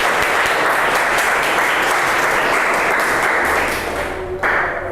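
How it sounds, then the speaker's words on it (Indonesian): Loud, sustained applause from a class of students, dense clapping filling the space for several seconds before thinning slightly at the end. "Tepuk tangan untuk kita semuanya."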